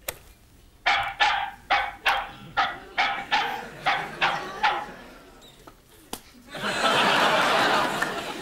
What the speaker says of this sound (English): Yorkshire Terrier. I just can't bear them. They yap.